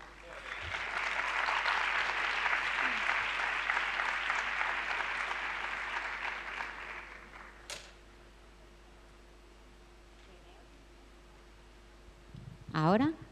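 A room of teachers at a training session applauds: dense clapping swells for about seven seconds, then fades into quiet room tone, with a brief clatter near the end.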